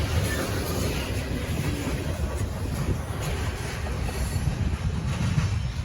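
A loaded CSX freight train rumbles steadily past on the Peninsula Subdivision, with a continuous heavy roar of rolling cars and faint wheel clatter; no horn stands out.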